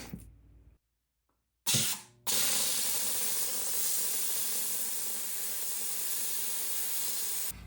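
A steam cleaner blasts a jewelry ring made with a $100 bill. A short gap of silence is followed by a sharp burst, then a loud, steady hiss that runs for several seconds before cutting off.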